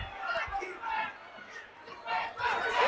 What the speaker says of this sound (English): The crowd on his feet.